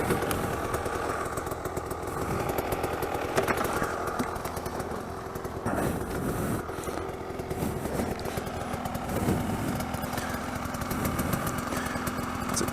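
An off-road motorcycle idles steadily while warming up with its choke on, a continuous close engine drone with a slightly uneven putter and no break for the whole stretch.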